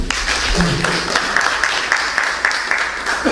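Audience applause at a small Korean music concert honoring Yun Isang, a dense, steady patter of many hands filling the room, with a voice briefly audible underneath.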